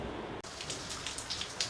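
Light rain begins to fall outdoors, a soft faint patter of scattered drops over a brief stretch with no talking.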